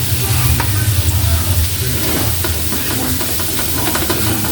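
Broth poured into a pan of sizzling, stir-fried food in a Filipino home kitchen, a loud continuous frying hiss with steam and stirring scrapes, steady and close throughout.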